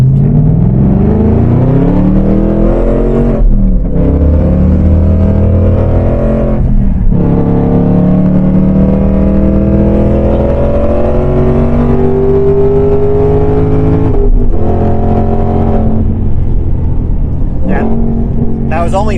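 A Coyote V8 engine in a Hennessy Mach 1 Mustang revs hard and accelerates through several gears, loud and continuous, with brief drops at each shift on a cold day in Mexico.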